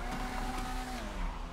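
A Vapid Retinue MK2 sports car engine in GTA 5 revs and accelerates with a steady, rising tone, loud and close, with no talking over it.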